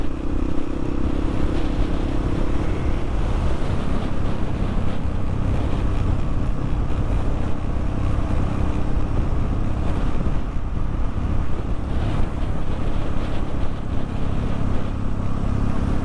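Strong wind roars steadily across the microphone while riding a vehicle along the southern coastal road near Tulungagung, a dense, buffeting rumble that never lets up, with no talking.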